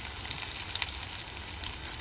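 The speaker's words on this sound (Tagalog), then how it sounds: "welcome to my cooking dried fish" Dried fish fry over an open fire with a steady, close crackling sizzle, a dense bed of small pops that never pauses.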